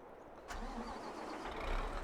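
A New Holland forage harvester in Farming Simulator 22 cranks and catches almost instantly, then holds a low, even engine drone, quiet and unaccompanied by speech.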